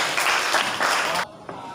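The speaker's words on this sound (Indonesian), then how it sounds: "Tepuk tangan lagi tuh Amos." A classroom of children applauds a student named Amos during a Catholic religious education lesson. The clapping is dense and moderately loud for about a second, then cuts off abruptly, with a brief last clap after it.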